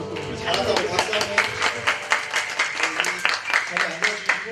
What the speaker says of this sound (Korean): 잘한다고 박수 한번.